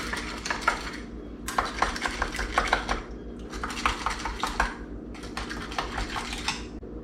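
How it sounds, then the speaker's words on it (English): Filled canning jars of pinto beans are debubbled with a utensil, giving bursts of quick clinking and scraping taps against glass in several rapid runs separated by short pauses, close and fairly loud. "I'm gonna get all my bubbles out because you have to debubble."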